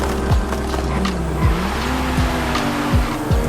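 Lamborghini Huracan Technica in Forza Horizon 5 launching with a loud, steady engine drone and repeated sweeping upshift tones, tire squeal mixed in, no talk.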